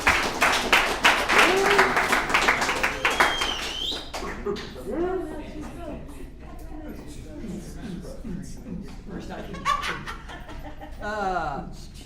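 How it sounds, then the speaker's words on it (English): Applause and cheering from an audience at an alumni meeting fill the first few seconds, then fade as scattered laughter and talking carry on in the room. "Let's give him a big round of applause."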